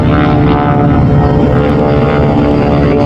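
A silver PT-13 biplane trainer with fixed landing gear flies past at an air show, its propeller engine a loud, steady roar that fills the whole stretch without letting up.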